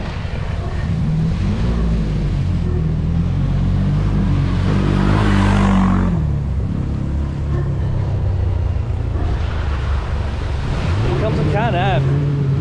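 A Can-Am quad bike drives through the water at Rufford ford, its engine revving and rising in pitch amid a loud splashing surge, with people talking over it.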